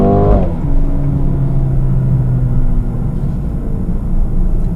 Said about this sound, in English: So press your foot down and the transmission does a very nice sharp kick down. You get lots of great sound out of it